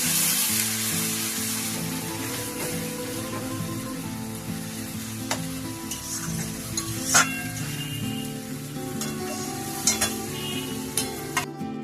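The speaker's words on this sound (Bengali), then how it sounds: "এবার ম্যারিনেট করে চিকেনটা দিয়ে দিচ্ছি।" Marinated chicken for chicken rezala sizzles loudly in hot ghee, a steady close frying hiss broken now and then by sharp clicks and scrapes as the pieces are stirred.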